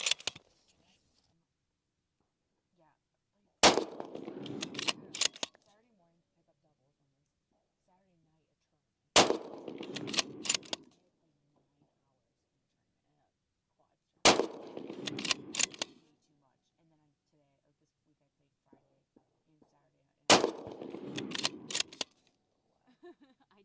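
Remington 700 rifle in .223 firing 69 grain rounds at 25 yards on a range, with four sharp, loud single shots spaced about five seconds apart, each followed by brief clatter of the bolt being worked.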